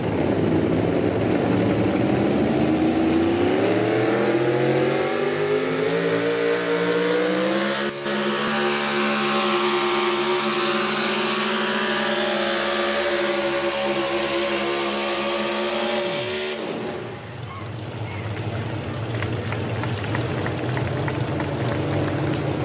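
A Chevrolet pulling truck named Supernatural roars at full throttle at a truck pull, its pitch climbing steadily and then holding as a sustained loud drone before cutting off abruptly near the end.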